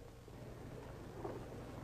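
Movie rainstorm with a deep, rolling rumble of thunder under a constant hiss of falling rain, low and fairly faint throughout with no speech.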